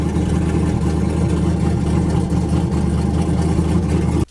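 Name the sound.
twin turbo street car engine cold starting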